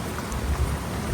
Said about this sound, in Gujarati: પેલો વરસાદ અને એમાં મજા મજા,